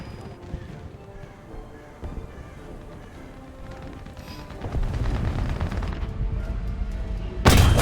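Gunfire in the tactical shooter Door Kickers 2, a stream of muffled shots over a dense game mix that thickens toward the end and closes with one loud burst.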